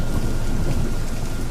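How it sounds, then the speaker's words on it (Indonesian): Heavy rain pouring steadily with thunder rumbling, a dense, loud, continuous roar with no voices. "hujan semakin lebat dan bercampur petir"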